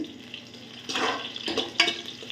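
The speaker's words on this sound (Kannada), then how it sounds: "ಈರುಳ್ಳಿ ಚೆನ್ನಾಗಿ ಫ್ರೈ ಆಗಲಿ." Onions fry in a pan for village-style mutton sambar, a soft sizzle with a few louder stirring scrapes toward the end, heard close.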